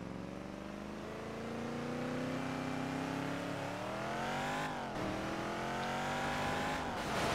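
Racing cars in the video game Burnout Revenge, engines droning and climbing steadily in pitch, with a shift-like dip near the middle and faint tire noise, loud and continuous throughout.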